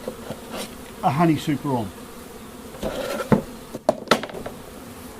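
Honey bees buzzing steadily at a Paradise beehive while a honey super goes on, a close continuous hum with someone talking over it and a few knocks of handling.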